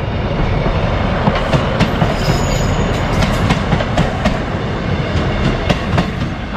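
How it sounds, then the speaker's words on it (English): A train rumbles past close by near New Holland, North Lincolnshire, with steady rolling clatter of wheels on rails and occasional metallic clicks, no voices. "Oh, there's a train coming."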